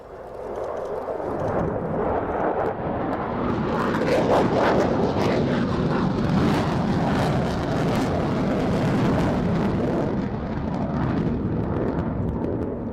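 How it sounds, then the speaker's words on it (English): A Rockwell B-1B bomber in the DCS flight simulator roars past in a broad, rising and falling jet rumble that swells and then holds loud and steady. "Such a monster, the Rockwell B-1B bomber"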